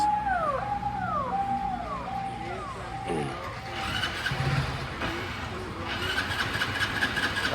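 A Hero Splendor Plus top-model motorcycle with a digital meter is started nearby, its engine catching and settling into a rough idle after some earlier chirping noises, with people talking over it.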